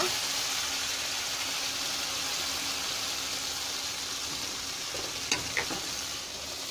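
Vegetables sizzling in hot oil in a pan for a pui shak fish curry, a steady quiet frying hiss with a few brief clinks near the end.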